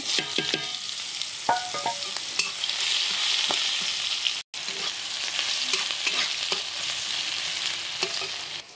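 Chopped onion frying in a pan over a wood fire, a steady close sizzle broken by scraping stirs and clinks, with a brief dropout midway before the hiss resumes.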